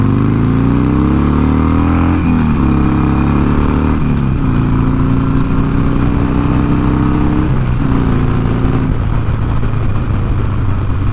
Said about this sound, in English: We'll run through a few gears here at this light takeoff.